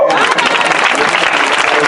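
A church congregation at a deliverance service applauds loudly and close up in a brief, vigorous burst of clapping, mixed with crowd voices.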